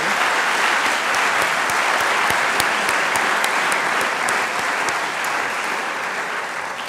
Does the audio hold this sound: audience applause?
yes